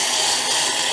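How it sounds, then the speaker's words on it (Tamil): Boiling water poured over sago pearls to make vadam, a continuous close splashing, rushing pour with no breaks, heard alone. "நான் இப்போ கொதிக்கிற வெந்நியை"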